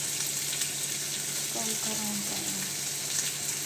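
Potatoes frying in a pan while potato chutney is cooked at home, a steady sizzle and crackle holding evenly throughout with brief stirring sounds in the middle.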